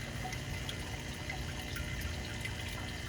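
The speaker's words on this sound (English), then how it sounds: "Here you can see the water running down." Water from a pump-fed half-inch PVC line runs into hydroponic Dutch bucket tomato plants, a steady close trickle and splash that stays constant throughout with no talking.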